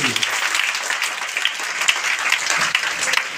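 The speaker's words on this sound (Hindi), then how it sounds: "एक जोरदार ताली बजाइए इनके लिए।" Audience applause for a professor being introduced at a business seminar, steady dense clapping from a crowd sustained throughout at moderate loudness, with no voices on top.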